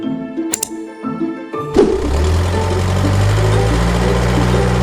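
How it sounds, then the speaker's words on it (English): A backhoe loader's engine starts up after a few brief knocks and clanks, then settles into a loud, close, steady diesel rumble with a throbbing low idle. "Backhoe loader."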